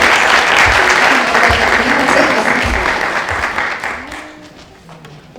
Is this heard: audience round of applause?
yes